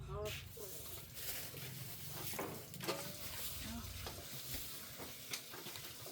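Food sizzles steadily in a hot pan with stirring scrapes, while people talk over it in Thai in a home kitchen.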